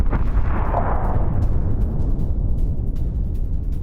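Heavy, rumbling blast from a Ukrainian drone strike on a Russian boat: a loud low boom with a brighter burst near the start, then a sustained roar and crackle that stays dense for several seconds, with no voices.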